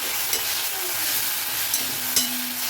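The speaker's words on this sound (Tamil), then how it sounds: "ஒரு 2 வதக்கு வதக்குனீங்கன்னா போதும்." Mint and coriander leaves sizzle steadily in a hot frying pan for chutney, with a few soft scraping stirs breaking through the constant hiss.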